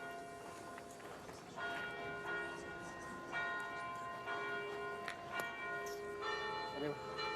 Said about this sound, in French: Et toujours le carillon. Ici à Romans-sur-Isère.